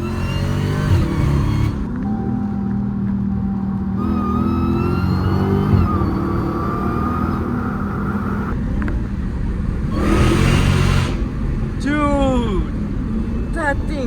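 A 2016 Dodge Challenger SRT Hellcat engine roars loudly and continuously from inside the car as it accelerates, with rising and falling revs, while people talk over the din.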